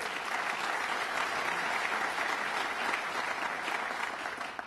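Audience applause fills a Staten Island hall during a governor's budget address, honoring Assemblyman Mike Cusick; steady, dense clapping continues for nearly five seconds without any voices over it.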